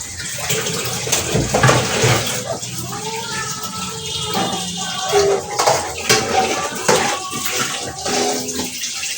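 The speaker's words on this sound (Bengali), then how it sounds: "এইভাবে যদি রান্না করতে করতে সাইডে ধুয়ে নেওয়া যায় বেশি বাসন থাকে না" Cooking dishes and pots are washed with water, with steady splashing and trickling, occasional clinks of metal utensils, and a voice briefly audible in the background.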